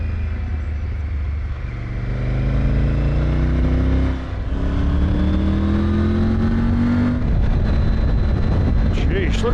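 Motorcycle engine on a windy mountain road, a loud steady drone that rises in pitch through several gear-like sweeps, heavy wind buffeting throughout, with a voice talking over it.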